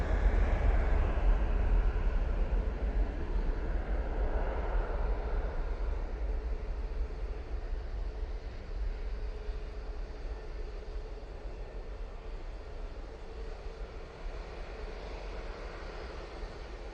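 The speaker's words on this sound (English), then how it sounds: "Right now on the roll," An Easyjet airliner on its take-off roll at Manchester Airport, bound for Verona, produces a deep, rumbling engine roar that is strongest at the start and slowly fades as it moves away.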